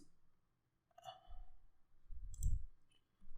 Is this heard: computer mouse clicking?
yes